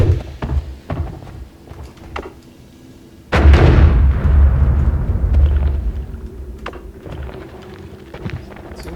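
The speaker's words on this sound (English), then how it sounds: "let's try putting a bomb here" A bomb blows up in the pixel-physics game Noita beside a wooden cart: a sudden loud, booming blast followed by a long rumbling, crackling decay, after a few scattered small clicks and thuds.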